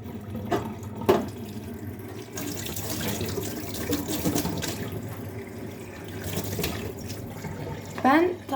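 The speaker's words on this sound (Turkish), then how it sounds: "tamamen sıcak suyu açıyorum" Hot water gushing from a kitchen tap into a sink: a steady, close rush of flowing water, with brief clatters and splashes from hands and dishes at the start and end.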